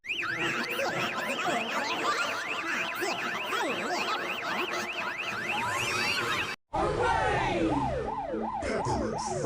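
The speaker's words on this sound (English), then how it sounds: "Everyone loves the police car." A police car siren in a cartoon sound effect wails loud and close, sweeping up and down in a rapid warbling pattern. It breaks off briefly, then resumes with the same rising and falling wail.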